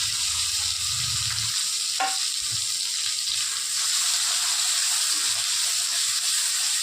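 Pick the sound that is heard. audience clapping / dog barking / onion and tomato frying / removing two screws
onion and tomato frying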